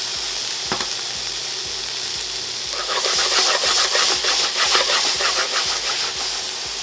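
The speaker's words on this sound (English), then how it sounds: "Now I'm gonna go ahead and drop my tomatoes in here" Tomatoes drop into a hot pan of shrimp and zucchini noodles, setting off a loud, steady sizzle that swells and crackles densely for several seconds, with no voices.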